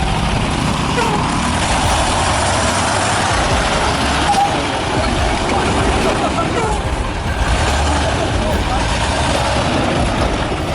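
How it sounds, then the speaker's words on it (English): Heavily loaded wood truck climbing a steep hill off-road, its diesel engine roaring loudly and continuously at close range, with a voice speaking over the strained, rumbling drone throughout. "The engine roared loudly, like a monster trying its best to conquer the hilltop."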